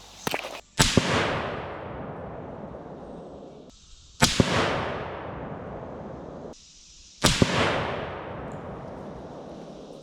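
.300 Win Mag rifle firing Core-Lok ammunition, three loud sharp shots spaced a few seconds apart outdoors, each with a long echoing decay.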